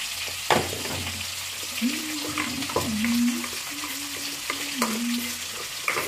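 A spice paste with turmeric fried in a pan for a cauliflower and potato dish, sizzling steadily under repeated spatula scrapes and a few knocks, with a faint tonal hum in the background.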